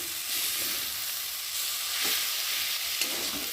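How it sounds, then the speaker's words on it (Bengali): Pumpkin greens and shrimp fried in a pan give a steady, hissing sizzle with a few soft stirring scrapes, heard up close and unbroken by speech. "একটু ভালো করে নেড়ে নিই"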